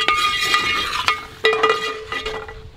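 Thalassery biryani masala stirred in a pot over a low flame, with a ladle scraping and clinking against the metal in irregular strokes over a steady bright hiss, up close and with no talk.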